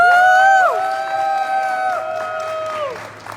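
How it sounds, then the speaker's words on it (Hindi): An audience claps loudly to welcome a speaker at a gathering. Scattered, crowd-wide clapping sits under a prominent sustained, sliding tonal sound, with the applause fading toward the end. "तो जोरदार तालियों के साथ वेलकम करेंगे।"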